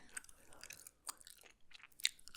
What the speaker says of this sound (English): nice to just have a neutral toned, vibey chewing gum